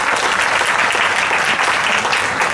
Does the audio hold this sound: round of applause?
yes